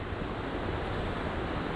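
A steady, broadband rush of water from a river flowing nearby along a conservancy hiking trail in Kaukauna, continuous and moderately loud, with a windy quality and no voices.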